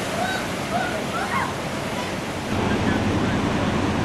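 Pacific Ocean waves breaking on a rocky Australian coast, a steady broadband roar of surf that swells slightly louder near the end, with no voices.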